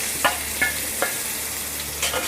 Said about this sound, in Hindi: जब तक हमें प्याज को फ्राई करना है